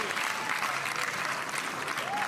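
Tennis crowd at the Newport Beach Open applauding a long rally, a steady wash of clapping from many hands, moderately loud and sustained throughout.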